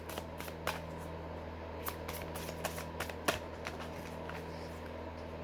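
Playing cards riffled and shuffled by hand, a run of soft crisp flicks and snaps at an uneven rhythm, close by, with one sharper slap midway and a steady low hum underneath.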